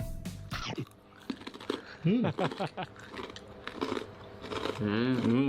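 Crispy fried pork belly is bitten and chewed, giving scattered crunches and crackles while people talk and exclaim over the eating.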